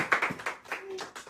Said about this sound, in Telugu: Super, clap.